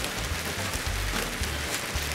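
Steady rain falls outdoors around a backyard pergola, a dense continuous hiss with faint patters, close and even throughout, with no voices.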